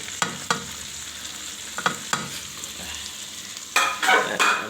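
Potatoes and bitter gourd fry in oil inside a rice cooker with a steady crackling sizzle, broken by a few sharp stirring scrapes and a louder burst of frying toward the end; no one speaks.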